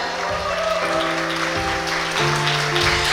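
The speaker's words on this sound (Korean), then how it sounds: "다시 한번 큰 박수 보내주시기 바랍니다" An audience applauds at a Korean tourism honorary ambassador appointment ceremony for a music group. The clapping is steady and fairly loud, with tonal music sounding underneath.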